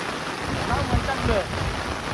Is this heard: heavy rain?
yes